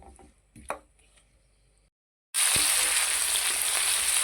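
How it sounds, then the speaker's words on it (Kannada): Capsicum and onion hitting hot oil in a pan: a few quiet clatters and a short silence, then a sudden loud, dense sizzle that stays strong to the end. "ಇವಾಗ ಇದನ್ನು ಎರಡನ್ನು ಒಟ್ಟಿಗೆ ನಾವು ಫ್ರೈ ಮಾಡೋಣ."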